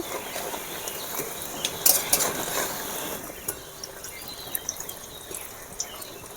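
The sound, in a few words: jackfruit pakoras frying in oil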